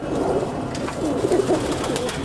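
Malwai pigeons coo in a series of soft, low, warbling calls, several overlapping, close by over steady background noise.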